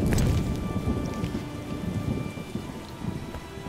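Steady rain pours down with a low rumble of thunder in a wet weather scene from The Witcher video game, the downpour hissing evenly and the rumble strongest at the start.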